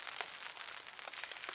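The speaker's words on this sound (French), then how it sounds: "La flotte a diminué un peu, mais il pleut toujours." Rain pattering steadily on an umbrella during carp fishing, a faint, dense hiss of drops with scattered sharper taps, no voices.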